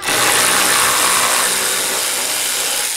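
A Matco cordless battery ratchet runs while parts for a Lexus LS430 are being worked on. It makes a loud, steady whirring rattle that carries on without a break for the whole three seconds, with no talking over it.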